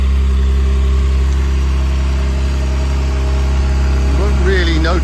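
A 2017 Porsche 911 Carrera with the 3.0-litre twin-turbo engine idles on its standard exhaust, a steady low hum and rumble running throughout, with a voice briefly heard near the end.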